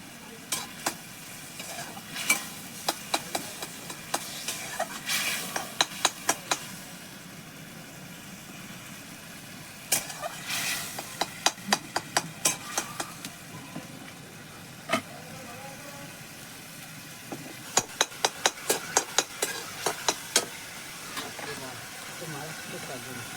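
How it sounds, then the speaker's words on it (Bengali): Whole cumin, ginger, garlic, onion and tomato sauté in hot oil in a pan for a Bengali egg curry, a steady sizzle broken by bursts of sharp, rhythmic scraping as a spatula stirs the mixture. "গোটা জিরে দিলাম, আদা রসুন পেঁয়াজ দিলাম, টমেটো দিলাম, মশলাটাকে ভালো করে কষিয়ে নেব"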